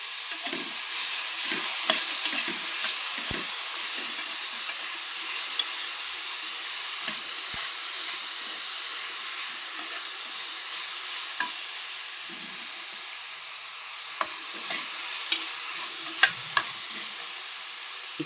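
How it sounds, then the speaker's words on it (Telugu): Food frying in a pan as salt and turmeric are stirred in, giving a steady sizzle with repeated scraping stir strokes and brief clinks, close and moderately loud, with no voices. "ఉప్పు, పసుపు వేసి బాగా కలపాలి."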